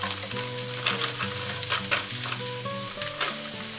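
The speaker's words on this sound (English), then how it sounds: "Okay, so we've got our corn pieces cooking away nicely." Corn pieces and tagliatelle pasta sizzle and fry in a pan, a steady close crackle with light stirring clinks throughout.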